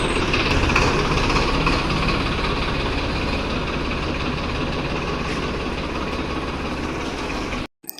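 Massey Ferguson 1035 tractor engine idling steadily and loudly up close, a constant low rumble that cuts off abruptly at the end, with no talking.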